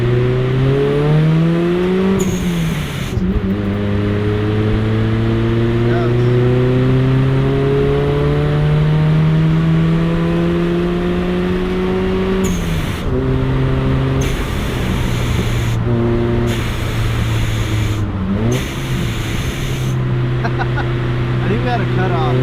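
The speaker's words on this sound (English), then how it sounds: "I'm gonna do a first gear roll on the straightaway so you guys can hear that" A supercharged 2011 Toyota Tacoma work truck accelerates hard in first gear, its engine and supercharger whine climbing loudly, easing off, then rising again in repeated pulls with brief cuts.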